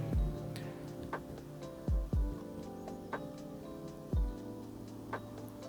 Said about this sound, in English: And this is the sound you hear of the fan.